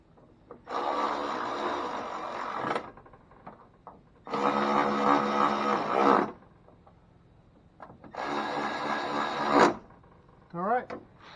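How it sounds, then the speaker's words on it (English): Power tool tightening bolts on a 1999 Ford F250 door, three sustained whirring bursts of about two seconds each with pauses between, close and fairly loud, followed by a short final buzz. "Tighten these guys back up."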